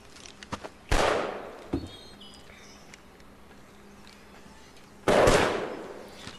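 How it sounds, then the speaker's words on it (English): Two sharp, loud gunshot blasts in Metal Gear Solid 3, each with a rolling echo tail, spaced several seconds apart, with lighter footstep-like taps in between. "Gunshots."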